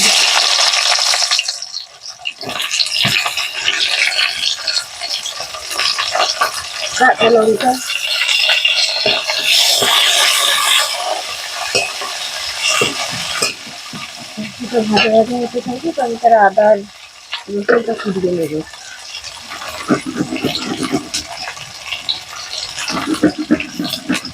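Panch phoron and chopped onions frying in a pan for a kham potato curry, a steady loud sizzle with scraping and stirring throughout, broken by brief pauses and occasional background voices.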